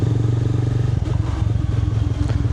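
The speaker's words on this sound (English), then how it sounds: "We're going to go for a ride through the city now." A motorcycle rides through the city at night, its engine a loud, steady low rumble with rhythmic pulsing and slight clatter, close up and continuous with no talking.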